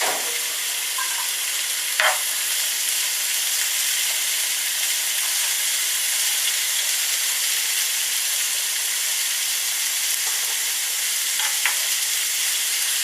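Onions frying in oil with occasional stirring, a steady, fairly loud sizzle throughout with a couple of brief utensil clinks and scrapes.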